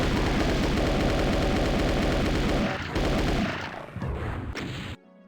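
Revenant in Doom II on Ultra Violence firing repeatedly like a turret, a dense loud barrage of rapid shots and blasts that thins out near the end into scattered impacts.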